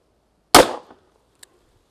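A single loud, close .45 ACP pistol shot fired outdoors at ballistics gel, a sharp crack with a short decaying tail, followed by a faint small click about a second later.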